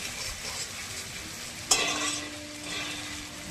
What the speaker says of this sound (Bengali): তেলের মধ্যে যত কষাবো ভালো হবে